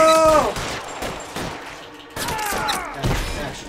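Gunshots in the police game L.A. Noire, a series of sharp cracks and thuds mixed with game effects and a scream-like tone, busy and loud throughout with brief faint voice.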